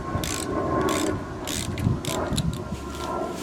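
A 3/8 ratchet loosens a bolt on a lawn mower before the carburetor comes off, with a continuous rapid clicking of the pawl running close and steady throughout.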